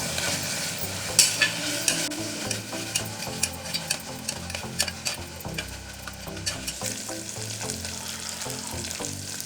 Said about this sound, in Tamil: இந்த இஞ்சி பூண்டோட பச்சை ஸ்மெல் போகிற வரைக்கும் நல்லா வதக்கி விட்டுருங்க.